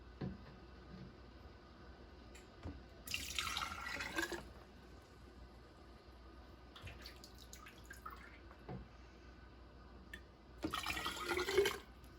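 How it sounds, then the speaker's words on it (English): Strained apple cider is poured into jars in a few short, faint splashing pours separated by quiet gaps, with light dripping and no talking. "Now I'm just going to fill up my jars."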